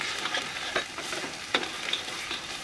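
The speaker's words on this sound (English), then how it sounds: "we just scramble the egg" Egg is scrambled in a hot frying pan for Indonesian fried rice: a bright, steady sizzle broken by several sharp scraping stirs of the utensil against the pan, close and with no talk.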